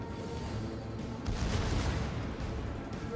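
Battleship guns firing in a naval video game, with the Iowa and the Alsace among the ships, heard as a deep rolling boom of a heavy salvo swelling mid-clip over a continuous low rumble of battle noise.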